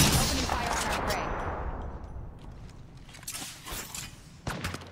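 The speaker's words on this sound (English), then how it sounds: "Opening fire on our prey." Gunfire from the Apex Legends video game (Season 22), dense bursts and shots layered over a busy game mix, loud at first and thinning out, with a sharp crack near the end.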